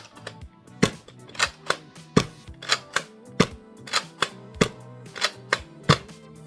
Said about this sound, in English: And then the prime, cylinder rotates, and you fire again.